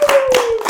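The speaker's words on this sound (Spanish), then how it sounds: "Ayúdenme a aplaudir" An audience claps at a live comedy show, a short burst of several quick hand claps over a sustained whistle-like tone.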